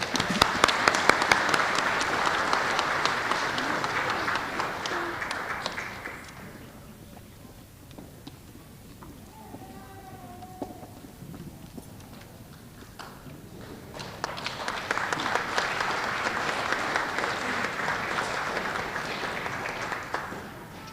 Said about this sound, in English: One more round of applause for our kindergarten students of the month.